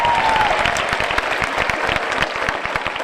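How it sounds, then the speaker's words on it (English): An audience at a Santa Ana High School commencement gives the school orchestra a big round of applause, a dense, energetic burst of clapping filling the whole moment. "let's give a nice big round of applause for Victor de los Santos and the Santa Ana High School Orchestra"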